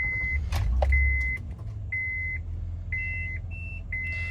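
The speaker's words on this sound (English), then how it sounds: "that beeping is from the van" Repeated electronic beeps from the wheelchair conversion of a 2008 Honda Odyssey van sound at a steady pace over a low engine hum, with a couple of knocks early on.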